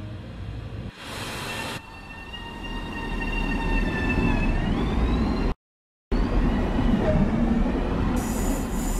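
An M3A electric commuter train on the Harlem Line in Train Sim World 2 starts to move, with rising motor whine and tonal squeals building over steady rail rumble and a short cut of silence.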